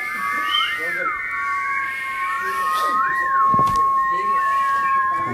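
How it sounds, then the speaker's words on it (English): People whistling long, sustained tones, several whistlers overlapping with steady pitches and rising-falling swoops, fairly close and loud for the whole stretch, with a brief sharp knock partway through. "Come on, who can whistle longest?"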